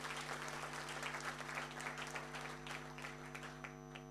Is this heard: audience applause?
yes